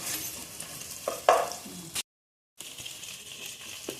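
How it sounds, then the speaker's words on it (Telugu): Vegetables fry with salt in a pan for veg biryani, a close hiss of sizzling with a few stirring scrapes, cut by a brief gap of silence before the frying resumes. "ఇలా ఫ్రై, కొంచెం సాల్ట్ వేస్తే మంచిగా ఫ్రై అవుతాయండి"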